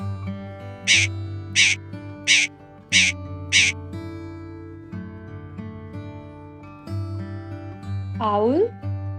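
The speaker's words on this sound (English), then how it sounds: "Crow, kaua." Five loud, evenly spaced crow caws, harsh and close, set against a bright music bed, with a rising whistled bird note near the end.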